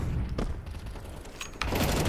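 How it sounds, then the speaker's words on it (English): An explosion in Counter-Strike during a competitive esports match, heard as a dense burst of booming, crackling gunfire-like noise that swells sharply near the end, with no voices over it. "an explosion up mid from YCreate"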